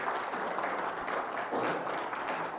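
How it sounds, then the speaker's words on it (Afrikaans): A church congregation applauding during an Afrikaans sermon, a steady wash of clapping from a seated crowd at moderate distance, continuing throughout with a faint voice underneath. "Kom ons gee hom 'n hande klap"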